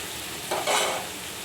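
Ingredients fry in a pan with a steady hiss, and a quick stirring scrape rises briefly in the middle of the short stretch.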